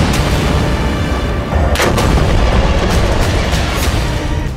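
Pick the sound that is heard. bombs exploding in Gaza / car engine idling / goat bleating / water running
bombs exploding in Gaza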